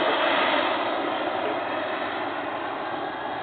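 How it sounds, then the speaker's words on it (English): A gas turbine RC jet with its landing gear down, approaching to land: a steady, even turbine hiss and whoosh, loud and constant across the short span with no talk. "Okay, gears down. Looks like he's going to come in for a landing."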